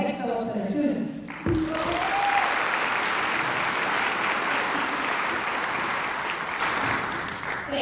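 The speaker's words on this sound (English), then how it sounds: "please give an incredible round of applause to Meg Phillips and her students" An audience at a school association's fall kickoff luncheon breaks into sustained applause, a steady wash of many hands clapping that starts abruptly and keeps going at full strength after a brief spoken introduction.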